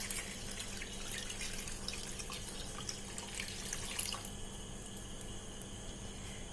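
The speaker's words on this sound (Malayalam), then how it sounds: "അപ്പൊ ഞാൻ ഇതിനകത്തേക്ക് രണ്ടാം പാല് ചേർത്ത് കൊടുക്കുവാണ്" Second-extract coconut milk pours into a pot of pazham pradhaman, a payasam of banana and jaggery, as a steady soft liquid stream with faint splashing throughout and no voices.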